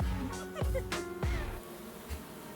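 Honey bees from a newly installed package on a first beehive buzz close by, with a few individual bees sweeping past the listener in quick swoops over a steady hum.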